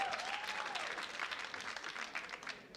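A comedy-show audience applauds and cheers steadily, a dense wash of clapping with a few voices whooping on top, sustained for the whole stretch at moderate loudness.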